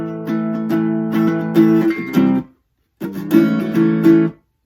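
An acoustic guitar strums a line of a song in a rhythmic chordal pattern, close and bright, in two phrases split by a brief pause.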